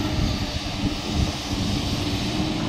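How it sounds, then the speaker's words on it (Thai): A Sany SY245H excavator engine drones steadily at work while clearing soil at a reservoir, a dense continuous low rumble with no talk. "รถขุด2คัน ซานี่ SY 245 H"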